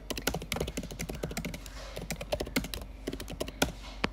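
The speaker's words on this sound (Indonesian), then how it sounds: "ASMR keyboard." Keys clacking on a computer keyboard in rapid, uneven bursts of close, crisp taps, continuing steadily with short pauses, no voices.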